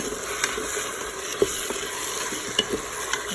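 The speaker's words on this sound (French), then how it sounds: "Je vais mélanger." Chicken with olives and carrots is stirred in a Cookeo multicooker, giving a continuous soft sizzle with several sharp scrapes and taps of the spoon against the pot.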